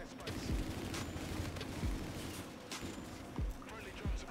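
Epic Auger Pumpkin Pummeler gun firing in the game Infinite Warfare, spaced heavy booming shots with deep thumps about once a second over a continuous roar, fairly faint in the mix.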